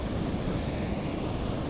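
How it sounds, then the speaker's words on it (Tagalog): Big sea waves churn around a small boat out on open water, heard as a loud, steady low rumble mixed with buffeting wind across the microphone. "Laki ng alon dyan oh."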